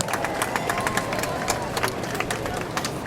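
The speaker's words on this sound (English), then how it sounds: "Let's give them a round of applause." A round of applause for senators from a crowd at an outdoor protest outside Senators Schumer and Gillibrand's offices in New York: steady scattered clapping with crowd murmur, moderately loud throughout.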